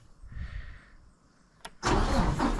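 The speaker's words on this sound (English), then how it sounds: "we'll start up the truck again" A grapple-saw truck engine is started: a quiet whirring before a brief crank, then the engine catches and settles into a loud, rough idle close by.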